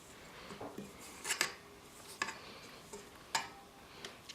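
A spoon scraping chocolate buttercream mixture around a bowl, giving a few quiet, scattered scraping and tapping strokes with soft clinks, close up and with no talking.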